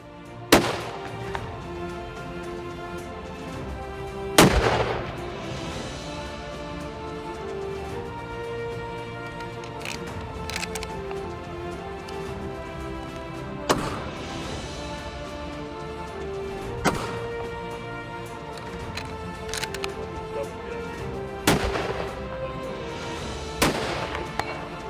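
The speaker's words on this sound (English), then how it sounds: "checked our zeros on our rifles" Rifles fire at a rifle range in sharp, loud single shots spaced several seconds apart, each with a booming echo that trails off, over a steady background hum.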